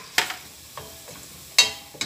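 Chopped garlic sizzling in melted butter in a pan, with a soft continuous fry punctuated by a few sharp scraping clicks of stirring at irregular intervals, close and clear.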